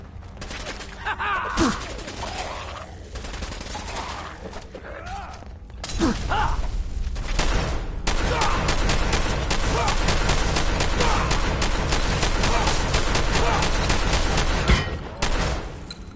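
Sustained gunfire fills a Fallout 4 video game battle: a dense, continuous roar of rapid shots that builds midway and holds steady, preceded by scattered quieter shots and clatter.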